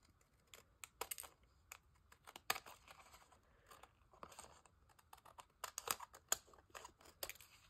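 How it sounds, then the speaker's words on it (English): Scissors trimming material, a series of short crisp snips and cuts at an irregular pace, fairly quiet and close, with no talking. "So let's trim it up a little bit."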